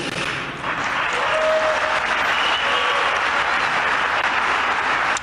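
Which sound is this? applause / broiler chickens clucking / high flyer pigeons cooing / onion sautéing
applause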